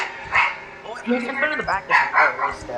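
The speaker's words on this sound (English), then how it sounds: "apologies for my dog in the background." A dog barks and yips in the background of a racing-game commentary recording, several short barks scattered across the clip beneath steady talking.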